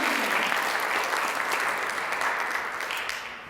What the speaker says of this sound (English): Let's give our judges one more round of applause.